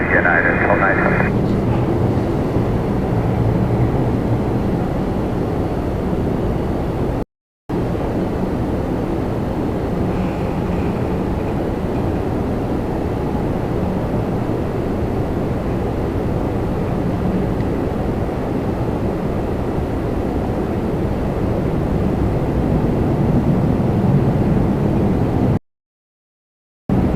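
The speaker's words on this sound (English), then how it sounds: "320 coming in next from Orlando, Rouge 1675." A steady, loud jet roar comes from an Airbus A320 airliner from Orlando landing at Toronto Pearson, continuing throughout with a voice talking over it.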